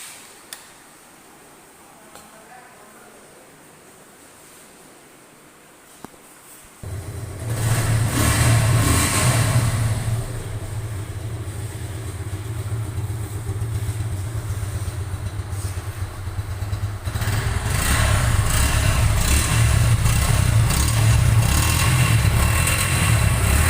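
A 2025 Suzuki Gixxer Naked motorcycle in orange starts up after several seconds of near silence, then runs loud and close with a steady engine drone that swells as it is revved, with no talk.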